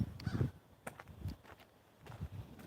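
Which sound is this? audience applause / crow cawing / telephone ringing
crow cawing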